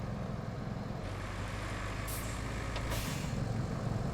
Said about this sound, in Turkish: Abi bir kamyon daha geliyor.